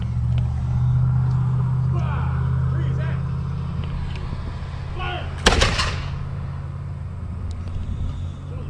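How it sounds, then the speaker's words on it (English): A small cannon fires once at a reenactment ceremony at Dewey Tavern, a sharp loud blast midway with a rumbling tail, preceded by a steady low engine hum and faint background voices. "That was that little cannon that Craig brought."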